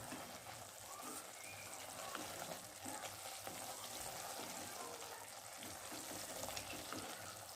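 A pan of shepu (dill) bhaji gets mixed after cooking covered, soft steady simmering sizzle with faint scraping stirs underneath, fairly quiet and close, no talking.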